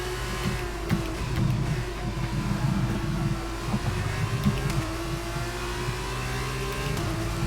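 An F2 race car accelerating off the line at a race start in the video game F1 22, a steady loud engine drone with layered revving from the surrounding field and no talking.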